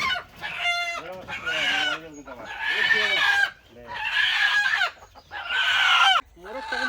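A large desi rooster of about one and a half kilos crows and clucks nearby in several loud, drawn-out calls separated by short pauses.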